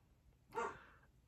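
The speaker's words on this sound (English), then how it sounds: "sorry about my dogs" A single short dog bark indoors, sharp and moderately loud against a quiet background, breaking a near-silent moment.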